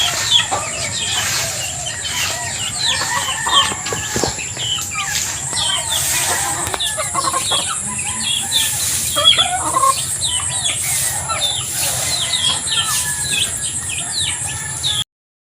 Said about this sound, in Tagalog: ating nang nahuli yung ating manok na kakarnihin